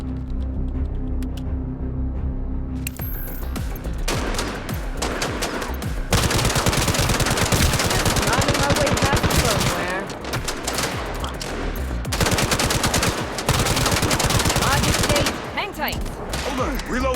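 Sustained rapid gunfire from a Gangstar Mirage City video game firefight, dense automatic bursts rattling almost continuously and loudly for the whole stretch with brief lulls, a voice faintly mixed in.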